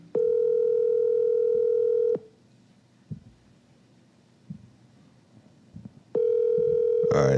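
A steady telephone dial tone sounds for about two seconds, breaks off into quiet with a few soft thumps and clicks, then returns loud and continuous, with no one talking.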